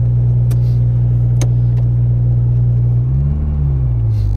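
A Honda S2000 sitting on freshly installed coilovers rumbles loudly at a steady idle with a deep, droning tone, then the engine pitch rises into a brief rev near the end, with faint clicks along the way and no voices.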